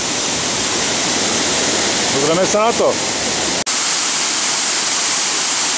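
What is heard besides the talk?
waterfall, rushing water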